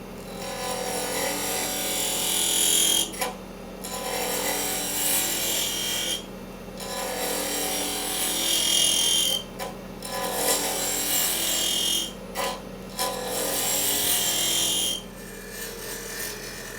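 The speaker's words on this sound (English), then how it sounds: "I've shaped everything the way I want it right now." Wood being hand-shaped for a threaded nut and bolt, with steady close rasping and rubbing strokes in repeated bursts separated by brief pauses.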